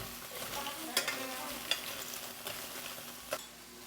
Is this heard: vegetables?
yes